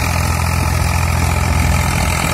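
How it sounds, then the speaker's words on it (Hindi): An Eicher 485 tractor with a 2945 cc engine idles under no load, a loud, steady, close diesel rumble with an even low throb and no speech. "उसमें ट्रैक्टर का साउंड सुन सकते हैं, लोड फ्री चल रहा है ट्रैक्टर बिल्कुल"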